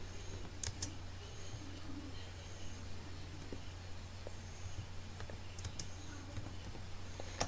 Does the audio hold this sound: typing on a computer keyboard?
yes